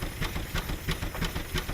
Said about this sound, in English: This is a 1912 Baker steam engine.